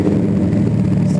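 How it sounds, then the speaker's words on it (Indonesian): A Yamaha Vixion motorcycle engine, restored and customized as a bobber, catches on the first start and idles steadily with a low, even rumble, close by and loud, with no pause or sputter. "Sekali start langsung nyala."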